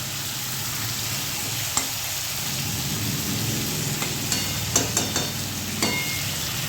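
Chicken pieces frying lightly in a pan for Bengali chicken kosha give a steady, dense sizzle throughout, broken by a few sharp utensil clinks and scrapes toward the end.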